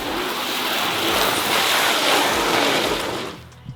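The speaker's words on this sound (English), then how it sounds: "Pressure wash this though. Give it the" A pressure washer sprays the frame of a 5.0 turbo-swapped Ford Ranger, a loud continuous hissing blast that holds steady for several seconds before cutting off near the end.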